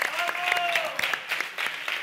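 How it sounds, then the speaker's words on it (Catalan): Applause from a live show audience, a brief burst of clapping with distinct individual claps, heard with a voice talking over it. "Gràcies per l'aplaudiment"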